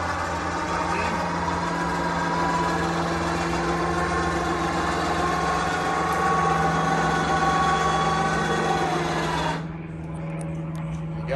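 A battery-powered electric motor on a Bundutec truck camper roof top tent raises the roof with a loud, steady whirring hum for about nine seconds, then cuts off, leaving quiet outdoor background.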